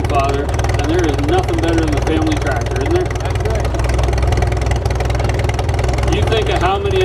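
A 1937 Cockshutt 18-28 tractor engine runs steadily up close, a dense low rumble holding level for the whole stretch while people talk over it.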